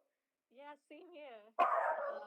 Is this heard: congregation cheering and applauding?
no